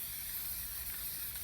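Rubber paint sprayed from a nozzle onto fabric pannier bags, a faint steady hiss running without a break through the brief moment.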